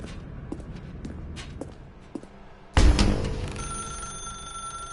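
A telephone in The Stanley Parable video game starts ringing abruptly after a stretch of quiet footsteps, its bright, sustained electronic ring filling the rest of the moment without any talk.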